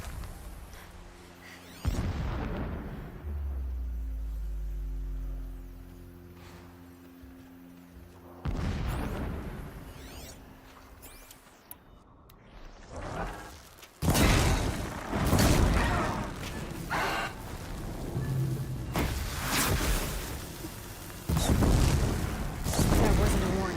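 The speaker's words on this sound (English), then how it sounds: "Explosions in the distance." Distant explosions in the video game Horizon Zero Dawn: a series of heavy booms and rumbling bursts, some sharp and some rolling, spread over the stretch amid other game sounds and possible voices.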